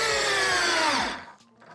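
A power screwdriver drives a fastener to fix an insulation panel in a crawl-space-like space, a loud close whirring spin lasting about a second that winds down into quiet with a faint clack.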